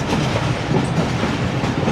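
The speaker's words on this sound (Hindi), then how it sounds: "ट्रैक साउंड बड़ा म्यूजिकल है" Train wheels clatter steadily along rail track in Pakistan during heavy rain between Lahore and Sangla Hill, a loud continuous rumble with rhythmic clickety-clack under constant motion noise, no voices.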